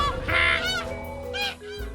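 Cartoon birds honk loudly in flight, a few close goose-like calls in a short run with a brief pause between, no talking over them.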